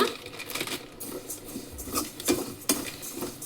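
Peanuts and other ingredients dry-roasted in an empty kadai, with close, irregular scraping and rattling of a spoon against the metal pan and the light patter of shifting nuts, a few sharper clinks standing out.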